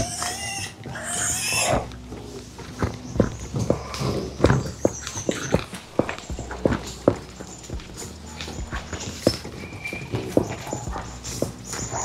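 Piglets grunt and shuffle in a pen, with short irregular grunts and scuffling footsteps scattered throughout, fairly close, after a brief burst of noise at the start.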